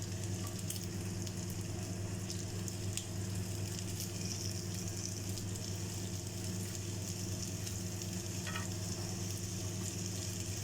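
Homemade seekh kebabs fry on skewers in hot oil. A steady, soft sizzle and crackle runs close up throughout without pause, over a low background hum, and no one speaks.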